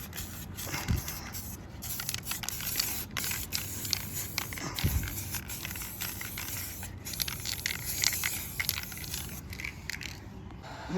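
Spray gun laying a second coat of clear over a Dodge Charger front bumper, a steady close hiss with faint scraping and patter, fairly quiet and continuous without talk.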